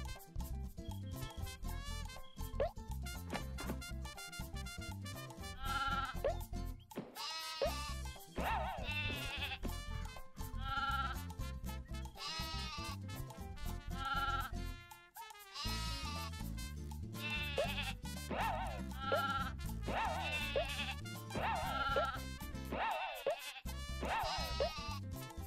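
Sheep bleat repeatedly in the PS1-era platform game Croc: Legend of the Gobbos, their calls layered over a busy, continuous game soundtrack throughout.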